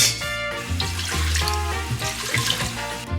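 Water pours from a tap into a pressure cooker fitted with a grill on the bottom, a continuous splashing gurgle with shifting tone lasting about three seconds, close and clear with no talking.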